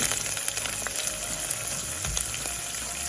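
Green chillies, ginger and onion stir-frying in a hot pan, with a steady, loud sizzle throughout and faint scrapes of stirring.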